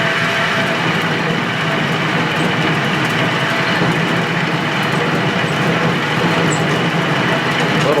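A lathe turning on a new VFD drive and poly-V belt, a loud steady mechanical roar with gritty chatter running throughout, close and continuous without pause.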